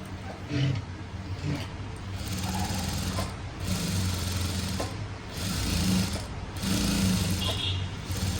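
A sewing machine with a normal presser foot slowly stitches thread piping along the back of a blouse, giving a steady close mechanical hum in long runs broken by brief stops.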